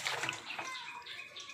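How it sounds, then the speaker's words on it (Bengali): Water pours briefly and softly into a pressure cooker holding bananas and a potato, a faint close splash and trickle. "এবার পরিমাণ মতো জলটাও দিয়ে দিচ্ছি।"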